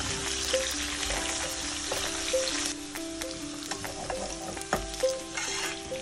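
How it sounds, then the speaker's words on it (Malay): Curry leaves, red and green chillies and sliced shallots sizzle in hot oil in a pan, a steady close crackle with occasional stirring scrapes and clinks and no voices, while a spiced fried fish roe dish is being cooked. "Tumiskan sehingga wangi dan layu."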